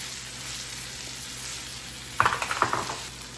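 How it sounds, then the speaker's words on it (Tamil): Curry leaves and chilies frying in oil with onion and ginger-garlic paste for chicken devil, a quiet steady sizzle with a few brief louder crackles and pops near the end. "இதுக்குள்ள நான் இந்த கறி கறிமிளகாயை போட போகிறேன்"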